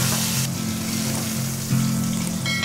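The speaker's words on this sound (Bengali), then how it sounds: "এরকম তোমরা লাল করে ভেজে নেবে পটল।" Pointed gourd (potol) fries in hot oil in a pan, a close, steady sizzle with faint crackles and no talking.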